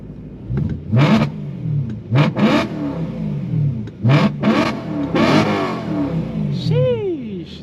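BMW E9X M3 V8 held at launch-control revs with valves open, a loud close burst of repeated throaty engine surges and bouncing revs, each lasting about a second, ending in a high whine.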